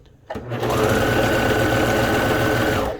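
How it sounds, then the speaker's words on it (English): Sewing machine running steadily as a pattern piece is fed through in a straight line, a continuous close motor whir and needle chatter that starts abruptly after a brief click and holds evenly to the end. "you feed it into the machine as a straight line"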